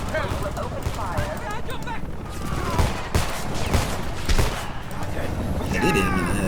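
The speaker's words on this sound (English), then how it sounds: "We need you in this fight. Start shooting." Rapid bursts of gunfire from the shooter video game Homefront crackle through a tense firefight, mixed with game voices and speech that run over the shots.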